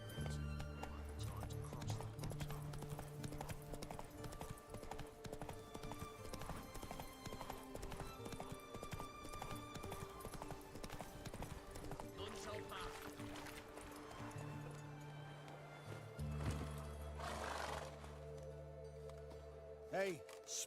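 The horse Roach in The Witcher 3 galloping, rhythmic hoof clip-clops running steadily with a neigh near the end, under game dialogue and ambient sound.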